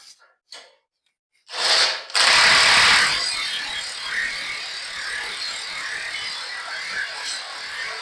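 A ratchet strap is cranked tight on a homemade trailer, giving a few sharp clicks, then a loud, close, steady stream of ratcheting clicks that carries on to the end.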